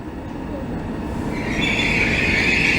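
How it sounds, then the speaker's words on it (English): A train pulls out of a through station on the Copenhagen–Malmö line, rumbling steadily and growing louder, with a high wheel squeal rising in the second half. "So here's the train leaving to Highly."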